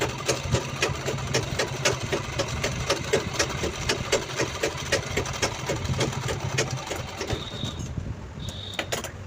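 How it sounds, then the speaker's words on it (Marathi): A sewing machine runs steadily, stitching a strip onto a readymade blouse, its rapid even needle clatter loud and close throughout, briefly easing near the end. "आता आपण ही जी शिलाई या बाजूने लावली सेम शिलाई आपण या साईडने सुद्धा लावून घ्यायची."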